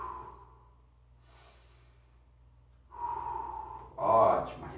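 Deep breaths in and out during a guided breathing exercise in a live class, a soft drawn-out exhale followed by a louder, closer inhale and exhale near the end.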